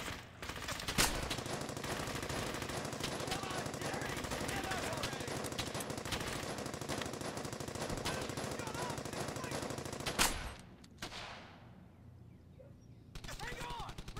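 Rapid machine-gun fire and scattered rifle shots in the World War II video game Brothers in Arms: Hell's Highway, dense and continuous for about ten seconds, then cutting off into a quieter stretch before more sound returns at the end.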